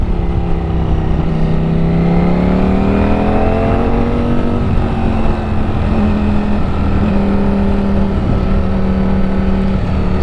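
A Ducati Streetfighter V4S motorcycle pulls hard in sport mode, its loud, close engine note rising steadily in pitch, then holding a high, even drone with slight wavers as it keeps accelerating.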